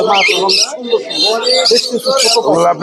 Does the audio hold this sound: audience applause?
no